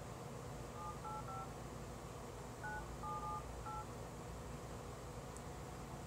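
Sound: telephone keypad dialing tones

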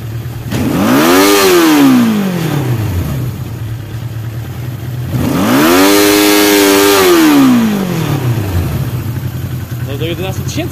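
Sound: motorcycle engine revving, Honda CB1300 or Suzuki GSX750ES

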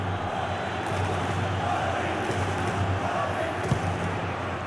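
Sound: stadium crowd cheering, from video game EA Sports FC Mobile

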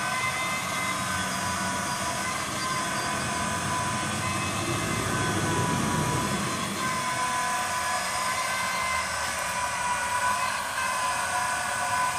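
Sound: Hill PCP high pressure air pump running on 12 volt battery

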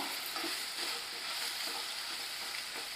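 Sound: stirring mutton bone curry masala in a pan

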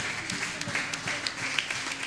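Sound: congregation applauding in church service

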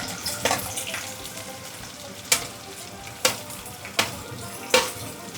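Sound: Garlic, curry leaves and onion frying in hot oil

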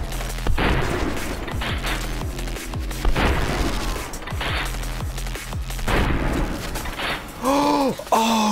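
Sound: shotgun blasts in VR video game Hard Bullet

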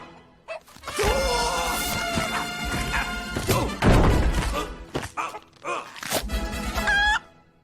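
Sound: chicken

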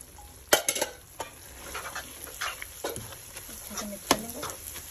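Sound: stirring egg halwa with coconut, almonds and pistachios in pan

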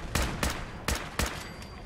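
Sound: gunfire in the video game Fallout

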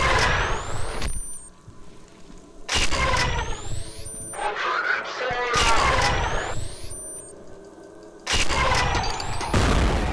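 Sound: grenade explosion in video game F.E.A.R

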